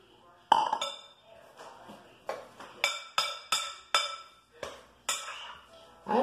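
Utensils clink and scrape against a glass bowl while turkey meatball mixture with breadcrumbs is stirred, a series of bright, ringing knocks repeating about every half second, close and moderately loud.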